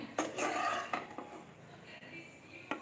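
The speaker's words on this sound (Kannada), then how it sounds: "ಮಾವಿನಕಾಯಿ ಚಿತ್ರಾನ್ನ ರೆಡಿ ಆಯಿತು ಇವಾಗ ಸರ್ವಿಂಗ್ ಬೌಲ್ಗೆ ಹಾಕೋತಾ ಇದ್ದೀನಿ" Mango chitranna spooned from a pot onto a serving plate, with several sharp metal clinks and scrapes of a spoon against the dishes, quiet and close, separated by short pauses.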